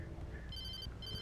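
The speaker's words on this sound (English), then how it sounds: "Oh, phone." Phone ringing in the game Alan Wake, a faint electronic ring tone chiming twice in quick succession over low background rumble.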